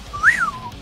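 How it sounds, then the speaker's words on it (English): A character in Final Fantasy XIV whistles one clear note that rises, peaks and slides back down in under a second, alone and close. "Let's go ahead and whistle while he dances."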